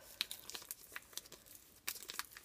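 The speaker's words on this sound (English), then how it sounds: "Rub really well around the die cut, and then you peel them apart." Adhesive tape sheet rubbed firmly over a paper die cut for scrapbooking, giving scattered crinkly rustles and sharp crackling scrapes, close and fairly faint, with a louder burst of crinkling near the end.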